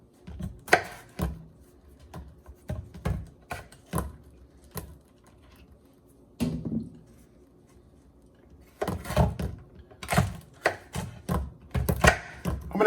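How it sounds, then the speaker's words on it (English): Vegetables chopped with a knife on a cutting board for a loaded omelette, in irregular bursts of close, firm taps with pauses between, no talk. "let's start chopping up a couple little things here"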